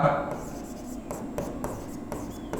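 Marker or chalk scratching across a classroom board in short strokes, with soft rubbing sounds and brief pauses between words being written, close and moderately quiet.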